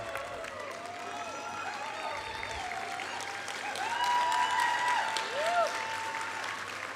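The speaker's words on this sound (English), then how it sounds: "They clapped too soon." Loud audience applause fills a college commencement ceremony hall, many hands clapping in a dense, sustained wash that swells toward the middle, with cheering voices layered over it.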